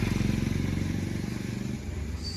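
Kawasaki Versys 650 motorcycle idling close by, a steady low engine rumble with a pulsing beat throughout, settling slightly lower near the end.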